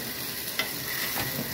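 Ingredients tipped into very hot oil fry with a steady close sizzle, a couple of brief crackling bursts and light stirring, with nobody speaking.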